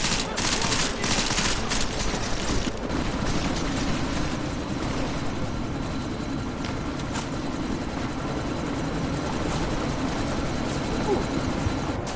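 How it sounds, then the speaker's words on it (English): A helicopter's engine drone under bursts of automatic gunfire in the video game Deus Ex: Mankind Divided, loud and continuous with dense shooting early on, while voices speak over the battle. "you need to disable that chopper"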